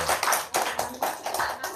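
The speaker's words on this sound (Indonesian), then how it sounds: "Tepuk tangan dulu dong." An audience applauds at a religious gathering, a dense burst of clapping that swells and dips in several waves across the short stretch, fairly loud and close.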